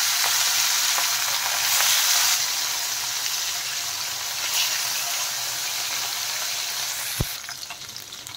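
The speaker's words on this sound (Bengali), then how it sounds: "তা এখন মাছের পিসগুলো আমি দিয়ে দিলাম" Mrigel fish pieces frying in hot oil, a loud steady sizzle close up that swells and eases, with a sharp knock of a utensil near the end and no talk.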